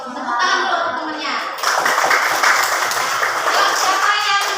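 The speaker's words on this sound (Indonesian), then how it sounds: "Tepuk tangan dulu temennya." A fourth-grade classroom of children claps together after a group presentation, with scattered clapping swelling into fuller applause and young voices chattering over it.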